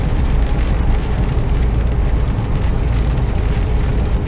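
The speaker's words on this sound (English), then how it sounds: "here comes the rain again" Rain hammering down loudly and close, a thick, unbroken roar of drops that holds steady for a few seconds with no talking.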